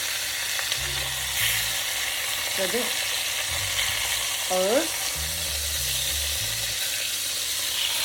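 Lamb searing in a heavy pot for kuzu tandır, fat spattering in a steady close sizzle with scattered crackling pops, a voice speaking briefly over it.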